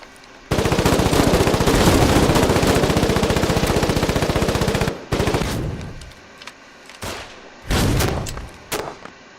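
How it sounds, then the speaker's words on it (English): Heavy sustained gunfire from the video game Foxhole, a dense loud burst of rapid machine-gun fire for several seconds followed by scattered separate shots and blasts that fit grenades and mortars. "They're tossing grenades and fucking mortars in there."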